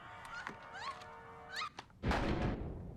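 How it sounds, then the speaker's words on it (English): Dull thumps knock at scattered moments in a TV horror drama scene, mixed with tonal swooping sounds and ending in a loud, noisy burst of commotion. "I keep hearing this, like, thumping."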